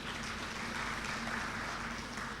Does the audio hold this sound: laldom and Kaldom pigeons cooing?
no